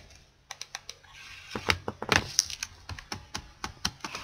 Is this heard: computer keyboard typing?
yes